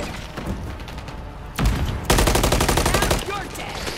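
Automatic gunfire in a Call of Duty: Modern Warfare III team deathmatch: loud, close bursts of rapid shots, a short pause, then a longer sustained volley that tapers into scattered echoing reports.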